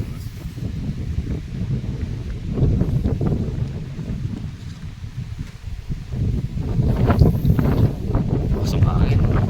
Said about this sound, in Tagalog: Pasok hangin mga kabukas, pasok hangin